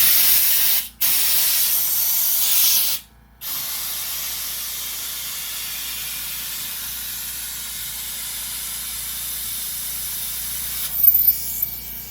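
An air hose with a loose connection blows air into an inner pontoon float for a Blue Sky 360 boat, a loud, steady hiss that cuts out twice briefly, then runs on continuously with no talking.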